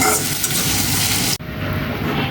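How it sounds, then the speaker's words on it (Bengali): Onions sizzling in hot oil with whole garam masala and bay leaf while being stirred, frying until light brown for a winter duck curry; a steady, close, dense crackle with a brief dip partway through. "পেঁয়াজটা হালকা বাদামি ভাজা হবে।"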